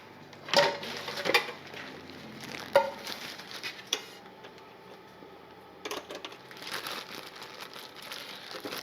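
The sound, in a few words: big pan being handled for frying tortillas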